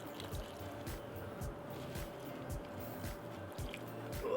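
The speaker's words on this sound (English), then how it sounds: "I'm gonna give this guy a good water, help settle the roots into the new soil." Water is poured onto a freshly repotted houseplant, soaking into new soil with soft squishy gurgles and drips, close and steady, with no talking.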